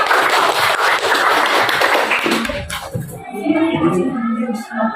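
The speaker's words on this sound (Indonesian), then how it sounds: "Jadi tepuk tangan dulu untuk kelompok 4 ya" A classroom group applauds group 4 during an academic supervision lesson: loud, dense clapping for a few seconds that stops abruptly, followed by voices talking.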